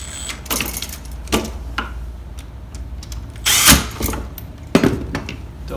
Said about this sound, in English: Go ahead and tighten up my other screws.